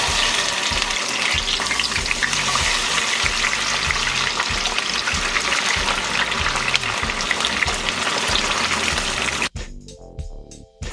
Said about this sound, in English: Gonna fry our French fries.